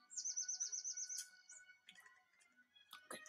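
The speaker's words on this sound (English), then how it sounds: "Just feeding the birds." Bright, rapid bird chirps and trills in a video game as birds are fed, starting with a quick warbling run and followed by scattered short tweets, clear and close.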